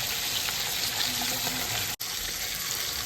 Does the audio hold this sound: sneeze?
no